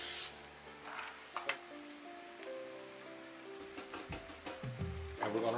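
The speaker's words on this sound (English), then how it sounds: "I'm gonna spray this with some" Cooking spray hisses in short bursts into a pan while a vegan broccoli, kale and spaghetti dish with beefy crumbles is made, a soft sizzle filling the gaps, with a person talking.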